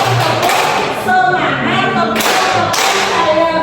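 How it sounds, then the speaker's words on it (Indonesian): A group performs rhythmic tepuk semangat clapping at a community service gathering, steady patterned claps close by with voices chanting along throughout. "Yuk kita bermain tepuk semangat."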